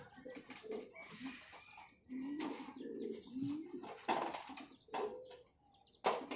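Young pigeons in a loft viewing area, with intermittent cooing and bursts of wing flapping close by, the sounds coming in uneven clusters with short pauses between.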